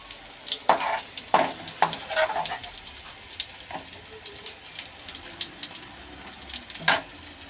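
Sliced okra and onions frying in a pan give a soft, steady sizzle, punctuated by several clattering scrapes of stirring, fairly close and with no talk.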